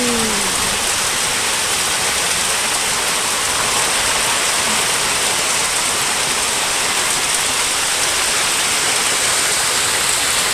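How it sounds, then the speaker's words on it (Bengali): Heavy rain pours in a dense, steady roar that never lets up, loud and close, with no voices. "দেখতেই পাচ্ছি কি পরিমাণে বৃষ্টি হচ্ছে"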